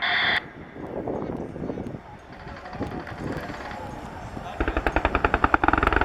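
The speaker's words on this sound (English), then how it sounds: "Target, pilot helmet sight, dismount HMG, by gun, auto range, firing." An RAF Apache helicopter fires its gun during an air show demo at the Royal International Air Tattoo 2019, a rapid burst of loud shots arriving near the end amid wind noise and a commentary voice.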